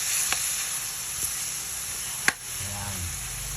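Tomatoes and chili peppers sauté in a cooking pot for spicy chicken sinigang, giving a soft, steady sizzle broken by a few sharp utensil clinks and a brief stirring scrape.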